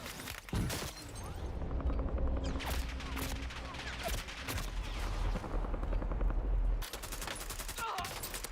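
Dense bursts of gunfire from a Call of Duty Warzone match, rapid automatic volleys and sharp shots crackling nearly nonstop, loud and close, with a brief lull near the end.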